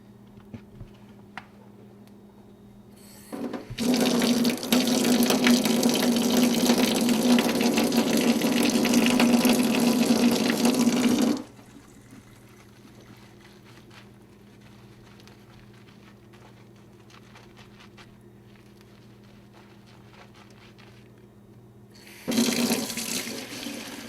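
Tap water gushes loudly into a sink while a Barbie doll's hair is wetted, running for several seconds, cutting off to quiet, then briefly starting again at the end.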